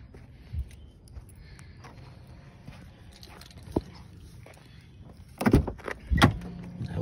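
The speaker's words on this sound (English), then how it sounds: "I hope I can open the door." Quiet rustling and a few small knocks, then a couple of loud thuds and cracking clunks near the end as the ice-encased door of a 2006 Mercury Mariner is forced open.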